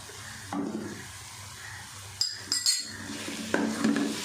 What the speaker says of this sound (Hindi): तो अब इसको डिश आउट करते हैं